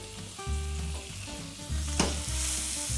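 Salmon skin crisps in a pan over turned-down heat with a steady, close sizzle, while sustained tonal music plays over it and one brief sharper crackle stands out midway; no one speaks.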